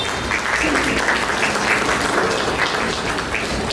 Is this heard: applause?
yes